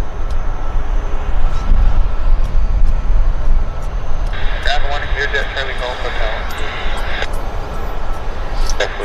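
Steady, loud rumbling engine roar from WestJet and Air Canada Boeing jets taxiing at Vancouver Airport, with wind buffeting the mic and a person talking over it.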